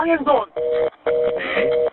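Telephone tones on a call line during frantic emergency reports of a multi-car pileup on the Seohae Bridge, three short bursts broken by brief gaps, loud and close.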